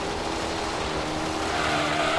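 Race car braking hard with tires skidding in Gran Turismo 3 on the Tahiti Maze course, a steady loud engine roar and broad tire scrub running throughout without a break.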